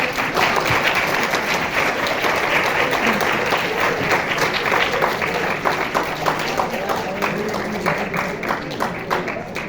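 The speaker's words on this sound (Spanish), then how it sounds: "Les pediría un último aplauso a nuestra invitada." Sustained applause from a large audience, dense steady clapping throughout at an even loudness, with faint voices mixed underneath.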